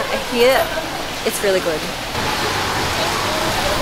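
Steady rain falls outside a cafe in Sydney, a broad hissing wash beneath close conversation that carries on alone once the talking stops.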